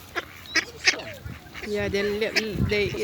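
Ducks and other waterfowl at a promenade pond in Maldon give several short honking, quacking calls, close by, with people talking over them.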